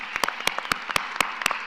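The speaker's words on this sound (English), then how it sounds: "Please give a round of applause" A few people clap at a Unitech Training Academy spring graduation ceremony: a short, sparse run of crisp, distinct hand claps in a loose, almost steady rhythm, close and fairly loud over a low room hush.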